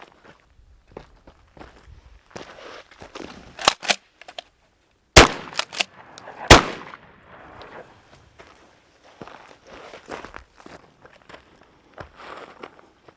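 Two loud, close shotgun blasts about a second and a half apart from a Benelli SuperNova firing Winchester standard double-aught nine-pellet buckshot, surrounded by footsteps, shuffling and clicks of the action being worked.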